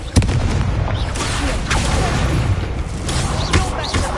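The Incendio fire spell cast in the video game Hogwarts Legacy, a loud burst of booming, crackling blasts over continuous game noise, with a few sharper impacts repeating through the clip.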